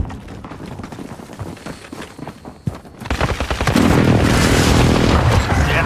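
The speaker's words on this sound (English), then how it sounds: "Enemy precision airstrike." Precision airstrike explosions in Call of Duty Warzone at a construction site, booming blasts mixed with gunfire that swell into a loud, continuous roar of impacts in the second half.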